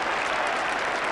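A large cricket crowd at Edgbaston applauds England's Test victory over Australia, a dense, loud, unbroken roar of clapping and cheering that fills the whole moment.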